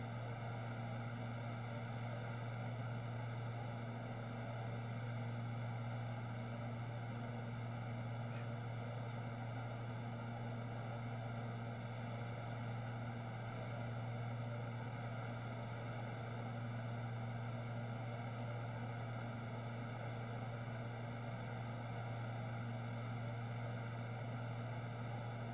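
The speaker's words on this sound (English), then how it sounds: "It's a King Air modification to the default King Air in X-Plane 11." Steady drone of King Air C90 turboprop engines in the X-Plane 11 flight simulator, a constant propeller hum with strong low tonal bands running unbroken and fairly loud throughout, no voices.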